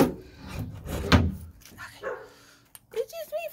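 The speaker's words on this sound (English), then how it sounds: "You hear our guard dog for you?" A guard dog barks at home in a few short outbursts, close by and mixed with people talking.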